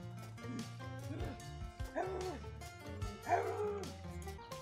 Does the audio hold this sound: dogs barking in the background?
yes